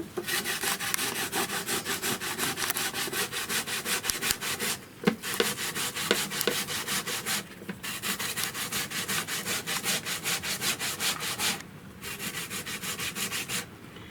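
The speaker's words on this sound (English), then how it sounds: "I'm going to use a modern grater, and I'll be showing you all how to grate off the flesh of the cassava." Cassava flesh is scraped over a modern hand grater in a Vanuatu village, a fast rhythmic rasping strokes run steadily and close, broken by a few brief pauses.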